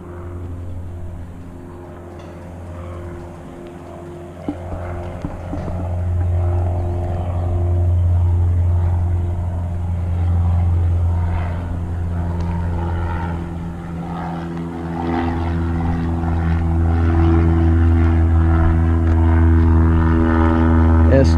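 A propeller aircraft engine drones near a B-17G bomber on an airfield, a loud, steady low throb that rises and grows stronger toward the end, with faint talk underneath.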